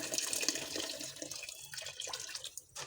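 Hot water pours steadily into a cooking pot of rice, chana dal and spices for khichuri, a close splashing gush with a few brief dips as the flow shifts.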